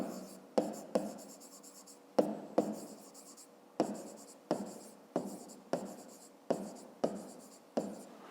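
Pen strokes scratch across paper while a fifth-grade math solution is written out, coming in repeated short bursts with brief pauses between them, close and fairly quiet, with no voice over them.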